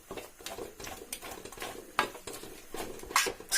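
A khoya mixture for ginger barfi is stirred in a pan over a very low gas flame, with quiet, irregular scraping and clinking of a spoon against metal in short repeated strokes; no talk.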